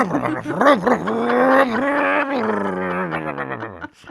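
A voice imitates a revving car engine with a wavering, rising and falling growl that holds for a few seconds and then drops away, loud and close.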